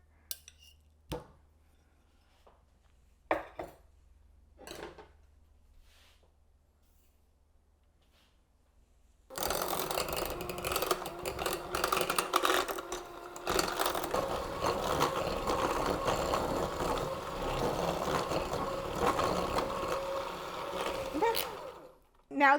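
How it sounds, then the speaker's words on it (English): An electric mixer creams butter and sugar for mango cookies. After about nine quiet seconds with faint clicks, a dense, steady whirring and churning starts up close and runs without a break for roughly twelve seconds. "Start by creaming the butter and the sugar."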